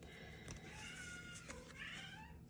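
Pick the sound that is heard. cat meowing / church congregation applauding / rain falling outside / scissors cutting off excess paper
cat meowing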